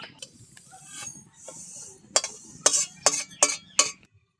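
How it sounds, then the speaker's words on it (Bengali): Fried mung dal is tipped and scraped out of a metal pan in a series of sharp rattling scrapes and clinks, growing louder and more rhythmic toward the end before stopping abruptly. "ভাজা হয়ে গেছে এখন ঢেলে নেব"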